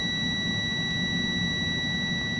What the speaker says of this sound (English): So you want that alarm to go off.